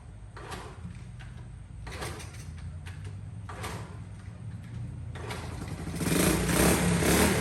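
A Honda CT70 K0 motorcycle bought at auction is wheeled out and started, giving a low steady engine rumble with clattering bursts, growing louder and rougher toward the end.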